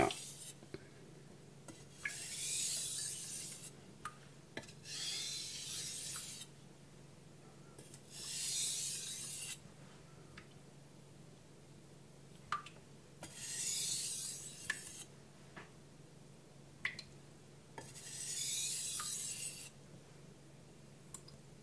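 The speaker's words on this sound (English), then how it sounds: "these are very soft, so I usually don't try to deburr on the stone" A knife is deburred on a soft Chinese whetstone with a series of rasping strokes, about seven, each lasting one to two seconds with pauses between them. The strokes are close, fairly quiet and heard alone, with small clicks in the gaps.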